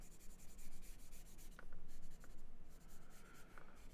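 Pencil shading on paper is smoothed with soft, close rubbing strokes in a quiet room, a steady back-and-forth scratching with brief pauses between passes.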